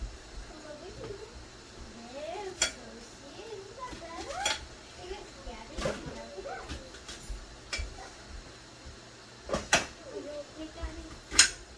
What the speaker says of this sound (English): I'm just dicing up the onion right now on a plate because I have no cutting boards or cutting sheets